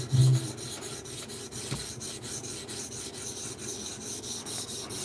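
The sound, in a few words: knife being reprofiled on a TS Prof sharpener stone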